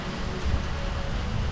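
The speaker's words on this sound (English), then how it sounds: "And it's raining hard, so I'm gonna have to gear up." Heavy rain hisses in a dense, steady wash for a brief moment near Hoover Dam, with a low rumble underneath.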